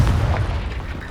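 A Confringo blasting spell goes off in Hogwarts Legacy, a single deep booming explosion with a heavy low rumble that swells and decays over about a second.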